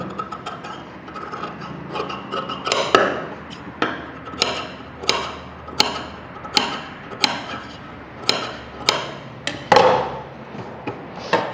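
Scissors cut through blouse fabric on a tailoring table in a regular series of about a dozen crisp snips and rasps, each close and distinct, with no talk.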